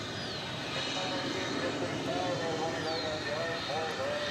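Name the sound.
airplanes coming in to land at DFW Airport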